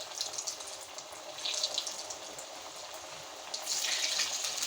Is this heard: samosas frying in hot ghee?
yes